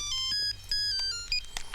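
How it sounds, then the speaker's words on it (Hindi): A phone's incoming-call ringtone plays a bright electronic melody of short tones at night indoors, close and steady, over a low background hum. "मेरे बंसल साहब का फोन है, जरूरी काम होगा।"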